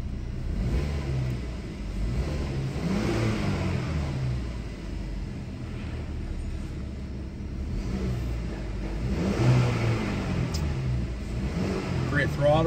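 A 2015 Buick Regal with a 2.0 liter turbo engine and all-wheel drive revs up close by, with a steady rumble that swells around the middle and again near the end, while someone talks over it.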